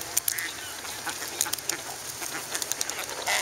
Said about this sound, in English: the swan is making the noise. And this, they made noise like trumpeting.